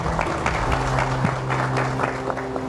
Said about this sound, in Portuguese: Recebe os nossos aplausos Marcelo Madalosso